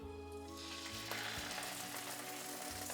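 Salmon fillet laid skin side down in a hot pan with oil and ginger, giving a steady close frying hiss that swells after the first second and continues without letup.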